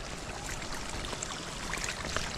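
Water flows in a stream running beside steep rice terraces near Ormoc, Leyte, a steady, soft trickling wash heard throughout the short clip with no voices over it.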